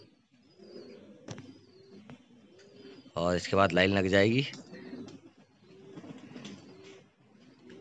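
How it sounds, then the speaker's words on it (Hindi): Pigeons coo softly and repeatedly in the background while a person speaks loudly for a few seconds in the middle. "ये पहला कबूतर आ गया"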